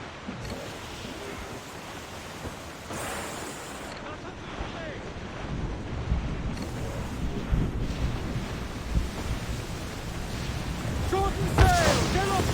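A sea squall in the Assassin's Creed IV: Black Flag video game: wind roars and waves surge around a sailing ship, with steady rushing gusts and surf growing louder toward the end.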